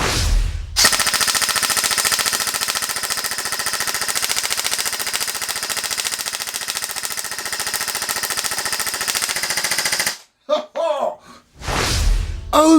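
An LCT AK-12 airsoft rifle fires one long, loud, sustained burst of rapid full-auto shots lasting about nine seconds, then a few short mechanical clacks and handling noises follow.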